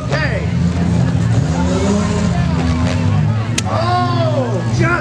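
Demolition derby cars at the Caledonia Fair, engines roaring loudly and continuously up close, with tires squealing and skidding as they maneuver for hits, under a commentator's voice.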